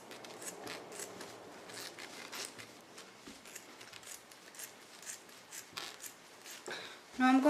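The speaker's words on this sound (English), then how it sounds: "So now I'm just going to cut along here." Scissors cutting fabric for a skirt, a run of soft rhythmic snips and rasping slices close by and fairly quiet, with a brief clunk at the end.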